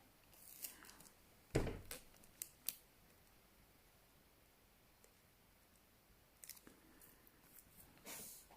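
Quiet crinkly handling of adhesive tape, with a few sharp tearing and snapping bursts scattered through the clip and near-silence between them.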